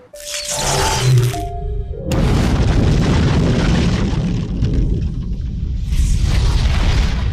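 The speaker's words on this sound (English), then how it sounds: "I'm sure this is a countdown for some sort of detonation." A loud explosion from a Stargate SG-1 episode hits after a brief quiet tone sequence, then a sustained, heavy rumbling roar carries on for several seconds with a second swell near the end.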